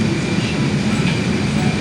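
A Silver Line metro train at Dulles Airport gives off a steady rumble and broadband rolling noise, close and continuous, with faint murmuring in the background.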